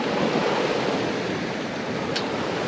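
Sea waves washing onto a beach beside a pier in Mersin, Turkey, a continuous loud broadband surf roar with wind, no voices.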